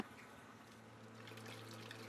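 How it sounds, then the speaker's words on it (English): RO water runs from a filter unit into a 150 gallon vat, a faint, steady wash of flowing water with a low hum beneath it, continuous throughout. "The RO water flows from the unit into this 150 gallon vat"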